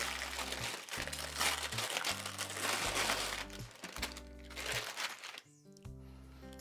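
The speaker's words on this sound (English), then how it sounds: "Remove all the paper" Paper peels off a slab of homemade American chew with close, crackling crinkles and rustles that come and go over a soft background music bed.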